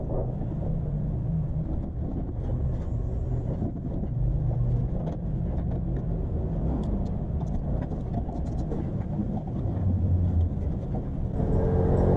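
A neighbor's moped engine runs steadily nearby outdoors, a continuous mid-level drone mixed with wind buffeting the microphone.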